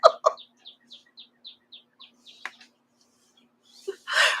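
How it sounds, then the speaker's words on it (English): Small birds chirp indoors-distant through a quiet room, a quick series of short, evenly spaced tweets fading off, followed by a brief rustle. "if you are offended by hearing the birds, I apologize."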